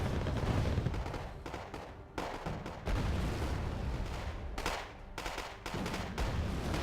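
Bombs exploding in the RTS Wargame Red Dragon, a series of heavy booming blasts and crackling gunfire in bursts separated by short gaps, fairly quiet overall with no talk.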